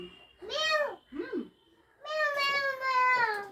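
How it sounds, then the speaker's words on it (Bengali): A cat meows indoors: two short meows, then a longer, drawn-out one after a pause, moderately close, with a soft murmur of a voice. "ও ম্যাও কেমন করে ডাকছে?"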